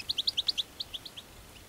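Small bird, a colorín (goldfinch) just let go during a capture-and-release session, gives a quick series of about ten bright, high chirps, loud at first and fading as it moves away, with no talk.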